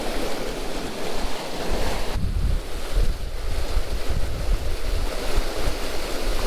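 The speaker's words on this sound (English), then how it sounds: "There's a bunch of water pumping out of the lake" Water gushes out of a lake through a pipe in a strong, steady rushing roar, loud and close, with wind buffeting the microphone and no speech.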